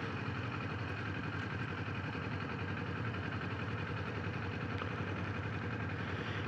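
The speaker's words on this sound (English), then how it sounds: "it sounds like your typical parallel twin" A Kawasaki Z400 parallel-twin motorcycle engine idles with a steady, throbbing low rumble, constant and unbroken throughout, heard close with no voices.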